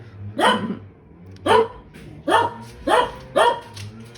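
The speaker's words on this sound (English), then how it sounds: "That's why she's barking" A dog barks five times at roughly even intervals, each bark loud and close, with brief quiet gaps between them.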